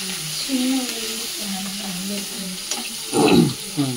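Small onions and green chillies sizzle in a pan, a steady frying hiss under faint background voices with a brief louder scrape or stir near the end.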